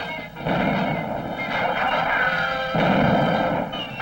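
Continuous heavy cannon and gunfire and booming blasts rumble under a droning engine in a 1968 Underdog cartoon, loud and dense without a break.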